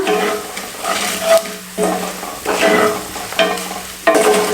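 Spoon stirring Indian-style veg pasta sauce with garam masala in a pan, a steady scraping sizzle broken by short pauses, close and fairly loud with no talking.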